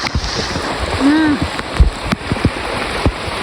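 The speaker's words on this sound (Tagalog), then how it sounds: "Tingnan nyo yung baha galing sa kanal, or we call it lugot." Floodwater rushes out of a canal during rain, a steady near wash of flowing water with splashes, while a voice talks briefly over it.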